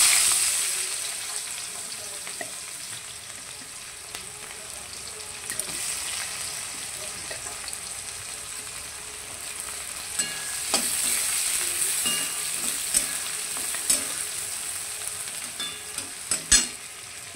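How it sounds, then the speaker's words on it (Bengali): Chopped onions fry in hot oil with small fish being cooked, giving a steady close sizzle with occasional stirring clatter and utensil taps, without any talking. "এবার আমি পেঁয়াজ কোচানোটা ছেড়ে দেবো।"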